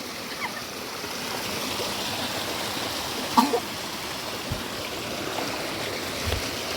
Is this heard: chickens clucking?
no